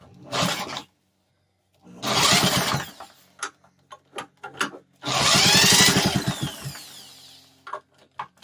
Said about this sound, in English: We got the old corded drill hooked up here.